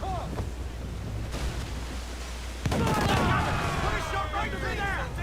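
Ship cannon fire in the video game Assassin's Creed 4 during a naval battle, a sudden loud booming burst rolling into sustained blasts over wind and waves, with a voice talking over it.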